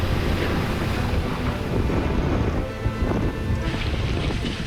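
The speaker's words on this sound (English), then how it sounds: "The wind's getting much stronger." Strong storm wind roars across the sailing ship Bark Europa with crashing waves, a loud continuous rush of gusts and surf buffeting the microphone.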